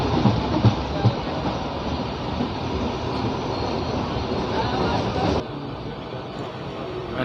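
Push-pull MEMU passenger train running near Bibinagar on the Warangal to Secunderabad line: a steady, dense rumble and clatter of wheels on track, continuous throughout, dropping slightly in loudness toward the end.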